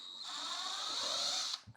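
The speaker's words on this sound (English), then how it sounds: "I'm going to grab my drill because" A power drill removing a screw whirs steadily at close range for over a second, then stops with a small clunk.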